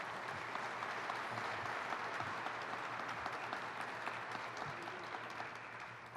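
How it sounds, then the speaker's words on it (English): Steady applause from an audience at a public event announcing a park commitment, a sustained even clatter of clapping that holds throughout at moderate distance. "Let's give them a round of applause."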